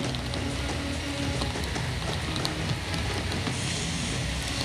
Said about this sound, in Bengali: গভীর রাত থেকেই মুষলধারে বৃষ্টি